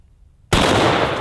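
A 45-70 rifle fires a 300 grain Precision One round into a watermelon: a single sudden, loud, close blast cuts in after near silence and leaves a sustained roaring wash of noise to the end.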